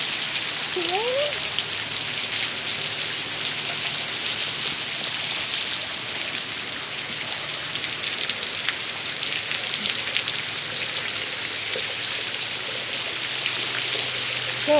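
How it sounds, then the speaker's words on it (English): Summer rain falls steadily outdoors as a dense, even hiss, continuous and fairly loud throughout, with a faint brief squeak early on and no talking. "Is it raining?"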